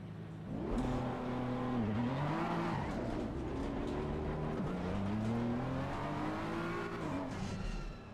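A race car in Assetto Corsa Competizione drives continuously, its engine revving up and down through gear changes and corners as a loud, steady roar with brief tire noise.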